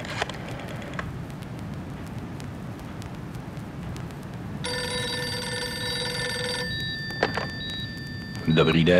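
A telephone rings with a steady, bright electronic trill that lasts about two seconds, close and fairly loud over a busy background with a few knocks.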